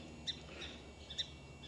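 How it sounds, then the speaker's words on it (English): Bird calling from a roof or fence in an urban backyard garden in mid-April, Georgia: two short, faint high chirps about a second apart over a quiet outdoor hush. "Oh, it's the bird on the roof, on the fence."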